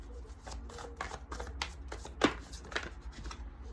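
Tarot cards being shuffled during a pick-a-card reading: a quiet run of soft, quick riffling flicks and papery taps, close by and alone, with one sharper snap partway through.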